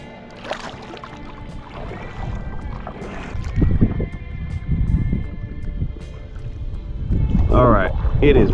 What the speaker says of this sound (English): it is very shallow in here, so I have to paddle my way out